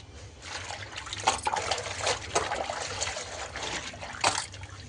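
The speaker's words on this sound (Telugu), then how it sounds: "ఇట్లా ఆకులన్నీ ఇట్లా నీట్గా కడిగి పెట్టేసుకోవాలి." Gongura leaves are washed by hand in water, with close sloshing, trickling and dripping and a few louder splashes as the leaves are lifted and rinsed.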